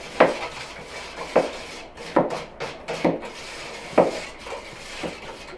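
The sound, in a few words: stirring soda into water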